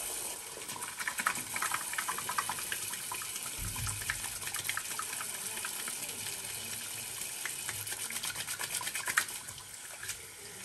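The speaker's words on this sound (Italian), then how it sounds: "Quindi iniziamo a lavarci le mani." Running water from a bathroom tap splashes steadily as hands are washed at a sink before a Christmas shave, a continuous near patter lasting throughout without any talk.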